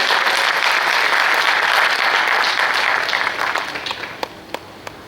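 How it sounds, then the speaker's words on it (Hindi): An audience at a Hindi stage play festival applauds the performers with loud, dense clapping that holds steady, then thins out into a few scattered final claps. "एक बार जोरदार तालियां हमारे सभी कलाकारों के लिए।"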